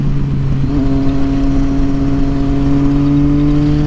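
A KTM Duke 250 motorcycle engine runs loud and close, holding a steady droning hum with little change in pitch and no voices over it.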